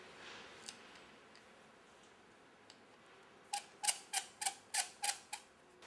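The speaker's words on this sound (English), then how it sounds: "Screw in the gas diffuser." Gas diffuser screwed by hand into a welding torch during assembly: a run of about seven sharp metallic clicks and ticks in quick succession near the end, close and fairly loud after a quiet start.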